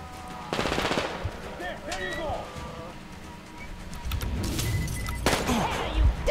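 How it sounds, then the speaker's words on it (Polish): Gunfire aimed at the player in Metro Exodus: rapid automatic bursts rattle out in two clusters, mid-distance and fairly loud, with mechanical clatter and scattered ambient noise between them. "Kurde, strzelają do mnie."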